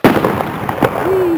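Fireworks bursting outdoors: a sharp pop, a few crackles, then a rising whistle-like tone, loud and close, with people talking nearby.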